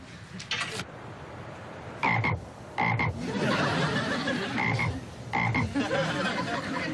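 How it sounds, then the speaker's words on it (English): A frog croaks in several short, loud bursts spaced a second or so apart, over a low background hum. "this is my frog"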